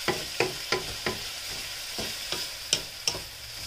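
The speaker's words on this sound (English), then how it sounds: "We're gonna brown that up and let it caramelize, guys." Pork adobo sizzles in a pan as its sugars caramelize, with about eight distinct scraping stir strokes at an uneven rhythm over a steady soft fry hiss, close up and with no talking.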